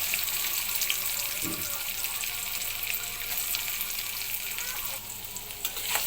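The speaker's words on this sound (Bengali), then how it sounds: "দেখুন, বেলে মাছের জন্য আমার পেঁয়াজটা ভাজা হয়ে গেছে।" Onion fries in oil in a wok (kadai) for bele fish bhuna, giving a loud, continuous sizzle with one brief scrape of stirring.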